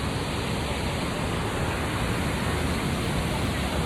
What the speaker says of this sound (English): And this is the waterfall. Oh, you hear that roaring?